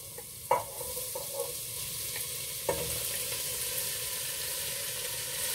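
Chopped onion dropped into hot oil with garlic for chanfaina, setting off a sudden loud sizzle that settles into a steady, even frying hiss, with a couple of faint utensil clicks and no talking.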